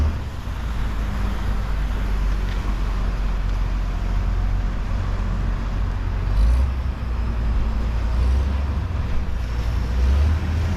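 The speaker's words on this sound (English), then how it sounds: "I see a boat coming now here." A speedboat engine drones steadily over wind and splashing water at Sambiray Port, Malay, Aklan, Philippines, the low rumble swelling slightly as it draws closer at speed.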